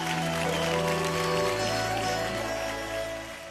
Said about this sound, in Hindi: एक बार जोरदार ताली आ जाए